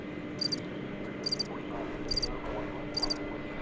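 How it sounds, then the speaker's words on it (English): Crickets chirping in four short, regular bursts, played as a sound effect during a live airport plane-spotting stream, over a steady low background hum and faint room noise. "Crickets?"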